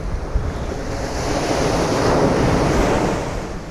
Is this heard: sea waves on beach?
yes